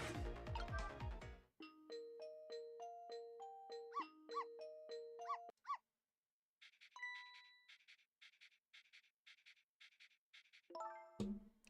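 A music box chiming in the video game Ghost Trick: Phantom Detective, playing a clear, bright sequence of plucked metallic notes in a steady rhythm, pausing briefly before resuming, with no voices.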